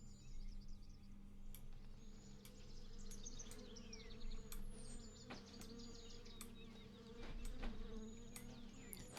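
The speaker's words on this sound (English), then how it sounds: "I hear the bees." Bees buzz steadily in an outdoor scene of the video game The Vale, a continuous drone close by, with scattered bird chirps and short clicks layered over it and no talk.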